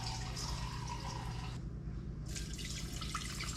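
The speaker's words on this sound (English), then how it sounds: "So all we're gonna do is put about half a cup of water in." Half a cup of water poured into a container while making iced coffee at home, a steady close running-water splash with a brief pause partway through, no talking.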